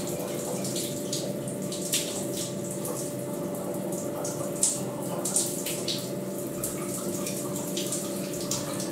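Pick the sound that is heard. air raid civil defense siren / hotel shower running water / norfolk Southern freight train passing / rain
hotel shower running water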